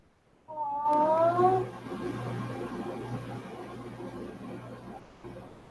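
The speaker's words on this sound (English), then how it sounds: "I heard it. You got a cat, Dustin?" A pet cat gives one clear, drawn-out meow near the microphone, followed by a softer lingering murmur over a faint steady background hum.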